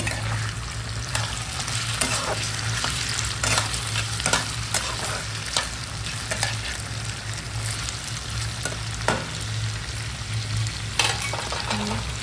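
Prawns fry with chopped banana flower in a pan for a mochar ghanto, with a constant hot sizzle and repeated clanks and scrapes from stirring. Nobody speaks.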